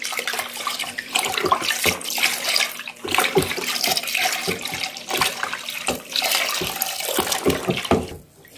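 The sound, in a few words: pouring liquid disinfectant into container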